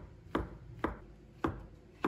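Knife chopping fresh shiitake mushrooms into thick slices on a cutting board, four distinct close cuts spaced about half a second apart with quiet pauses between them.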